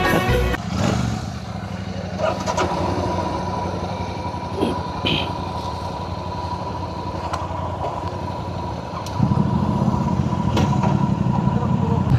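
A group of ten to twelve motorcycles heading off-road toward Gajendragad fort, their engines droning steadily throughout, with a louder, rougher engine surge near the end and speech mixed in.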